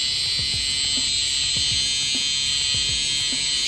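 An electric eyebrow trimmer epilator runs after being switched on, giving a steady high-pitched electric whine and buzz, close and continuous, with faint rhythmic mechanical ticks underneath.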